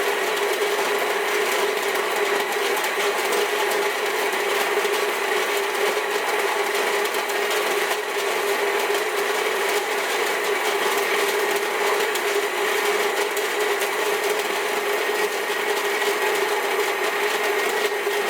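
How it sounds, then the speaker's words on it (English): A Capresso Infinity burr coffee grinder grinding beans at a medium setting whirs steadily with a constant high mechanical buzz, loud and unbroken from start to finish. "I'm going to grind the rest of the beans at medium."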